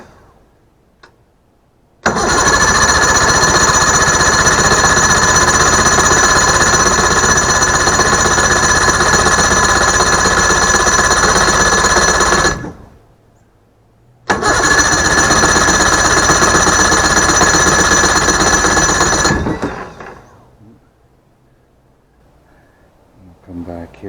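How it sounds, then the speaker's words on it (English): A boat engine cranked with the key and the choke pulled, turning over loudly and steadily for about ten seconds, stopping briefly, then grinding again for five more seconds before falling quiet. "Turn the key on, give it some choke, and crank it"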